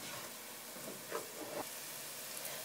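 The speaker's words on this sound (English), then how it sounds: "I'm gonna let the onion cook down even further with the spices now for a little bit" Onions cook down with cardamom, cloves and black pepper in a pan for saag paneer, giving a steady, soft, close sizzle with a few brief crackles.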